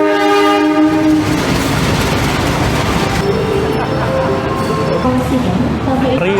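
Riding inside the Kamandaka passenger train from Semarang to Purwokerto: a loud, continuous cabin rumble with rhythmic wheel clatter. A horn sounds at the start and again near the end, and voices carry over the ride.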